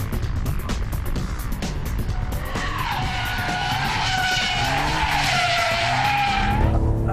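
A Ferrari 575M Maranello V12 slides into oversteer, its tires skidding in a long, loud squeal over the steady engine roar before the noise cuts off sharply near the end.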